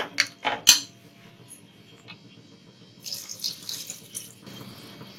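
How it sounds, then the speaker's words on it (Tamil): Water being poured into a pot of South Indian sambar with mixed vegetables, a soft splashing trickle after a few sharp clinks of utensils against the pot. "தேவையான அளவு தண்ணி சேர்த்துக்கோங்க."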